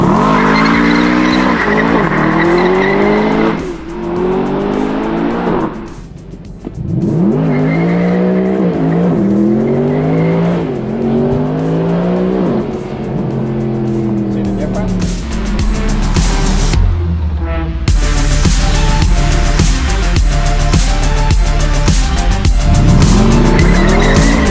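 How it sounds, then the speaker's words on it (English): A loud Mercedes-Benz SLS AMG engine revs hard during a burnout while tires squeal and screech continuously, the pitch rising and falling with repeated throttle bursts, very close. "I don't want to smoke the tires too bad on this"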